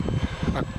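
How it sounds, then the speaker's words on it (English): RC model aircraft engines at a flying field, a short, close, buzzing engine rumble with pulsing low throbs and a rising whir partway through. "his engines are now starting up on the Mr. RC Sound"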